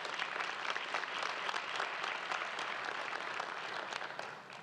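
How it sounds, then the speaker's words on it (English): A Founders Day audience breaks into dense, sustained applause, a continuous roar of many hands clapping that holds steady before tapering off at the end. "Give yourselves a round of applause."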